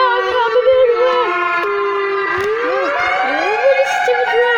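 A tornado siren wails loud and close, its rising and falling tones sweeping continuously with no break, while people shout faintly in the background.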